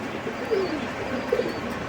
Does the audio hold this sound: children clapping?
no